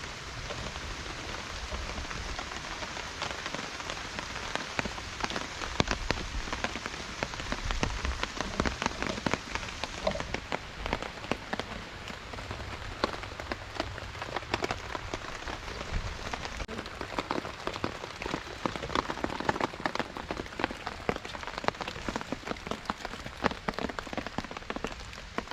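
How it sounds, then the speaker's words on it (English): Rain falls steadily on a woodland camp, a dense patter of drops striking tarps and gear with sharper individual taps throughout, and no voices. "Back out in the rain again."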